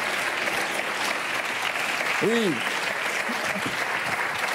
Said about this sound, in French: On peut applaudir Benoît qui était en coulisses.